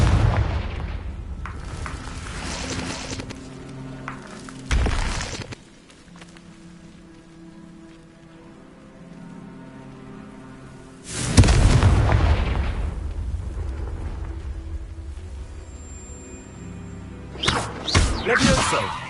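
Confringo fire spell blasts in Hogwarts Legacy on PS5, heavy booming explosions bursting twice with a long crackling rumble trailing between them, loud and close in the game mix.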